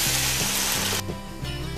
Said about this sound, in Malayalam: ഇനിയും 4 glass നല്ല ചൂട് തിളച്ച വെള്ളം ചേർക്കാൻ പോവാ.